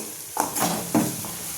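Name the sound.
stirring corn and capsicum rice mixture in a pan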